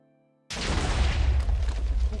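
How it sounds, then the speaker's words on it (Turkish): A Minecraft explosion erupts suddenly after a near-silent moment, turning into a loud, sustained booming rumble with crackling debris that continues to the end. "bilgisayarınızda sürekli patlamalar oluyor"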